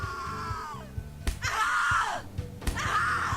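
In The Cat Lady game, a woman screams in anguish, with two sharp impacts followed by long, rising and falling wails over dark background music.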